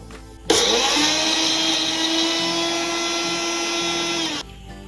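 A kitchen mixer starts abruptly and whirs loudly at a steady high pitch for about four seconds, grinding coriander into a coarse paste, then cuts off.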